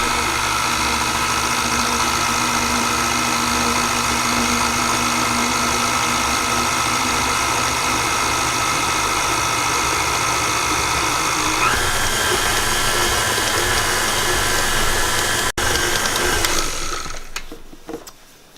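An electric stand mixer beats Heath bar chocolate chip blondie batter at medium speed, a steady close motor hum with a rhythmic whir that shifts partway through, then winds down and stops near the end.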